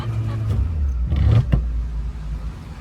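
A learner driver's car travels along a road in second gear, its engine giving a steady low hum that swells briefly as it revs, with no voices present.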